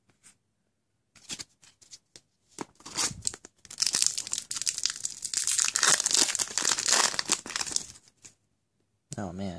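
A Force of Will trading card booster pack is torn open: sparse crinkles build into a sustained loud crinkling and ripping of foil wrapper, then quiet, with a voice briefly at the end.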